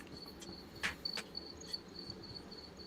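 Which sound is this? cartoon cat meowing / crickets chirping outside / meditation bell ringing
crickets chirping outside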